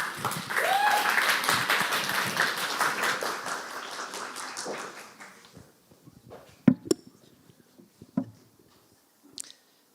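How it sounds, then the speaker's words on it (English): An audience applauds at a game pitch event, a dense burst of clapping that fades out over about five seconds, followed by a few scattered thumps and handling noises in a quieter room. "Big applause."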